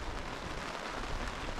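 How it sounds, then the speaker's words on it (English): Sleet, rain and snow falling in the Australian High Country, a steady dense hiss of precipitation filling the short stretch without any voices. "It's snowing. It's also raining. Sleeting."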